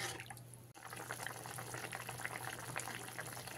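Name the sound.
egg curry gravy boiling in a pan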